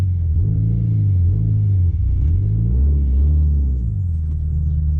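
A Toyota MR2 engine rumbles close by as the car pulls forward in gear, its low note rising and falling with throttle over several seconds, with no talk.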